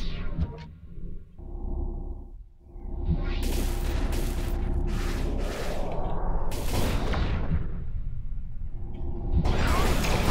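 Weapon launches in the space combat game Starfarer: bursts of sabot rounds and Typhoon Reaper missiles fired at an enemy ship, a run of loud whooshing, booming blasts over a steady rumbling battle bed, with no talk.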